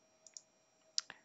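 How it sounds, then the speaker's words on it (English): A few sharp computer mouse clicks, close and distinct, with a couple of lighter taps before them in a quiet room. "what we're going to do is first click on the range indicator"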